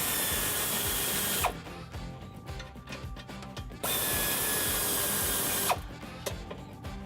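Power tool working on 14mm nuts behind the bumper of a 2016-2019 Toyota Tacoma during a bull bar installation, two loud sustained whirring bursts with quieter mechanical handling between them, no talk.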